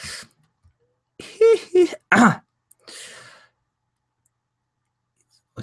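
A few rough throat-clearing bursts close by, followed by a softer breathy exhale, then silence.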